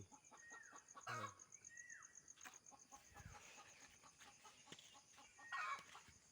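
Chickens cluck and call intermittently at a distance, with a few short sharp knocks in between and a quiet background.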